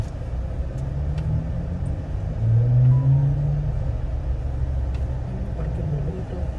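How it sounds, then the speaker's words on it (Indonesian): A 2022 Jeep Wrangler JL Rubicon 4-door's engine heard from inside while driving, a steady low rumble with a slight swell in the middle and no talk over it. "suara mesinnya tidak semerdu Jeep Wrangler sebelumnya yang bermesin V6."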